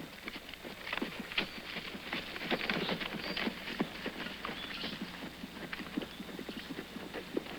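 Horses' hooves clip-clop steadily on the ground in a 1950s Western frontier scene near cabins, many overlapping irregular strikes at moderate distance with no talk.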